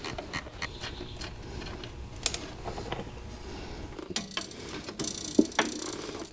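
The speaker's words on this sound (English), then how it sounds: "Love my ratchet and wrenches." A ratchet wrench clicks in short irregular bursts while working on an engine mounted on a budget run stand, close and fairly quiet, with scattered metallic knocks and handling noises between the turns.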